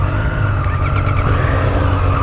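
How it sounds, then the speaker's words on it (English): Triumph Street Triple 765 three-cylinder motorcycle engine running steadily and loudly up close, a continuous rumbling drone with no talk over it. "Oh yeah, that sounds like a triple right there."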